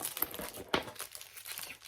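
Crinkly rustling from a holographic BH Cosmetics brush bag being handled and opened, soft and close, with a sharper crackle midway.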